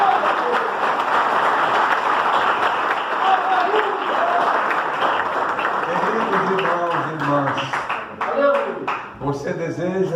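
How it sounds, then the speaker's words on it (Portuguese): A church congregation claps in a dense, sustained round of applause, with voices and cheering mixed in as the clapping thins toward the end. "Louve ao Senhor com as palmas de vitória para Deus"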